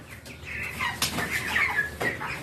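Farm chickens cluck and call in a close, busy flock, with overlapping bursts of clucking and a few louder squawks throughout, no talk.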